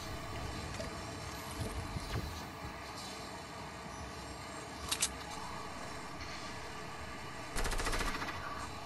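Video game gunfire in a battle royale match, with distant shots under steady ambient noise and a short, louder automatic burst near the end.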